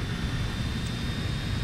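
Airplane engine drones in a video game, a steady low rumble with a faint high whine running throughout the short stretch.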